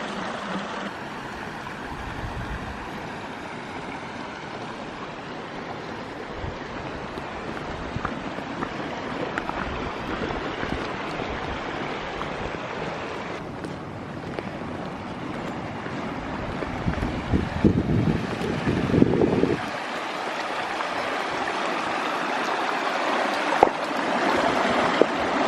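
Steady rushing of a small mountain creek flowing out of rocks, broadband and continuous, with a brief louder gush near the end; no voices.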